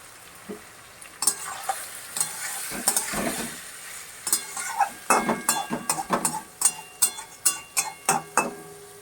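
Mixed vegetables and raw fish, hand-mixed for kacha macher charchari, fry in a pan, sizzling under a run of rhythmic stirring scrapes and spoon knocks that grow more regular toward the end.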